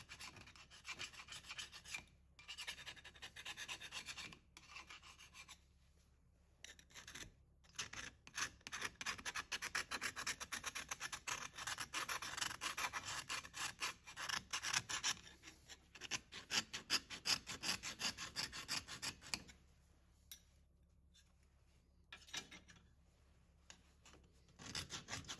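Three-sided scraper rasping rust off machined metal surfaces, a close, steady run of rough scraping strokes with brief pauses between bursts.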